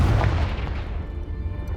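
Confringo blasting spell cast in Hogwarts Legacy, a single heavy explosive boom that fades into a low rumbling tail.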